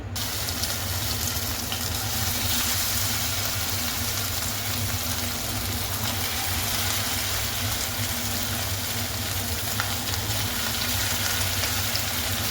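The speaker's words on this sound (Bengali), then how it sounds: "তো এখন কিন্তু আমরা এই মাংসটা ভালো করে ভেজে নেব তেলে" Marinated chicken pieces frying in hot oil for chilli chicken, a steady, dense sizzle and crackle that stays loud and close without letup, with no talk.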